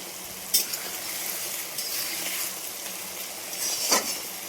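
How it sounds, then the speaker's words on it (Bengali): Coriander leaves frying in oil in a home kitchen pan, a faint steady sizzle with a couple of sharp utensil clinks and stirring scrapes. "ধনে পাতা কিছুটা তেলে ভেজে নেবে"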